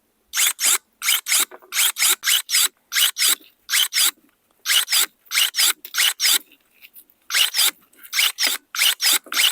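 ProCraft ES 32 Li cordless battery pruning shears snipping small twigs, a rapid series of sharp close-up cutting snaps in quick bursts with brief pauses between groups.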